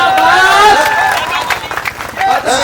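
Audience applause and cheering at a Hindi comedy poetry gathering, a sustained crowd roar of clapping with voices and a tonal shout riding over it.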